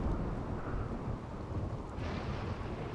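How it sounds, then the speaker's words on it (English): Rain pours steadily in the Rimworld video game, with low rolling thunder rumbling underneath throughout; the storm stays loud and continuous, with a brighter hiss of rain rising near the end. "Ah, the sounds of the thunder and lightning."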